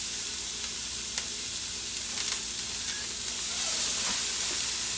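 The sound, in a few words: food sizzling in hot oil in a pan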